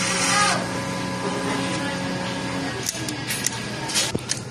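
A sublimation printer running a head cleaning cycle whirs steadily with mechanical humming, then gives a few short clicks and ticks as its internal parts move.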